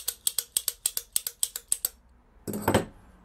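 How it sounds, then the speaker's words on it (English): Light metal taps on the edge of a copper pipe end, stretching it to form a solder socket: about eleven quick, evenly spaced close clicks, followed by a short louder scraping rattle. "just slightly tap that edge, just stretch the copper a little bit"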